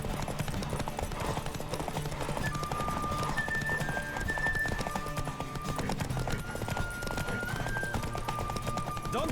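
A horse gallops with steady clip-clop hoofbeats and whinnies in The Witcher 3: Wild Hunt, loud and close over a constant busy game soundscape with a few sustained tones.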